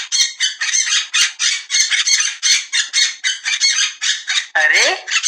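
A parrot in distress squawks again and again, loud, harsh and close, in rapid bursts that end with a sharp, rising cry.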